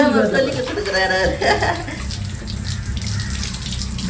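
Water poured over a baby at bath time, splashing and running in loud bursts close by, while adults talk over the sound.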